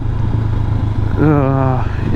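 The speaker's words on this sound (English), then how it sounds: "The exhaust sound is not my cup of tea, to be honest." Stock exhaust of a 2022 Honda CB500X motorcycle: a steady low engine rumble throughout, rising into a louder, higher revving tone with clear harmonics midway, then settling back.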